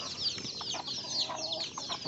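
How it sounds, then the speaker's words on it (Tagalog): Chickens cluck and chatter together at close range on a farm, a busy overlapping flurry of short calls with no voices. "So, manok."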